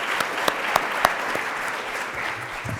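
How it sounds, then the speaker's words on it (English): Audience applause at a student showcase event, a sustained crowd clapping wash with a few sharp louder claps near the start, fading slightly toward the end. "So go ahead and clap that"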